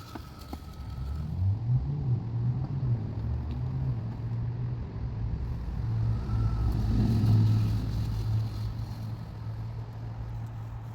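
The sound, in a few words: traffic noise from busy road beside backyard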